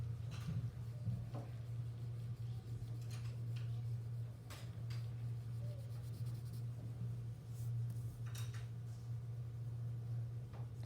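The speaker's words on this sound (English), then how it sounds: "correct it using my B pencil by just adding in some value" A B pencil shades on paper in soft, faint scratchy strokes that come in short bursts over a steady low hum.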